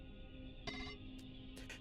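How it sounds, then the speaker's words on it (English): An office telephone rings inside the video game Titanium Court, a fairly quiet electronic ring in a few short bursts over a low steady background hum. "As you observe it, the phone in your office rings."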